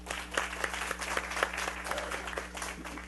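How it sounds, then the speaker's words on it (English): Steady applause from an audience at a school board meeting, dense overlapping claps at even loudness throughout, with a low steady hum from the room underneath. "So give yourselves a round of applause for that."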